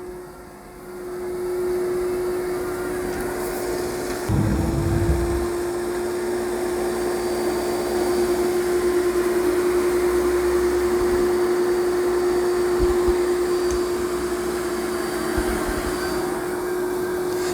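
A Dyson Spot+Scrub AI robot vacuum works across carpet, giving a steady, close whirring hum with a sustained tonal whine. A brief low bump sounds partway through, and no one speaks.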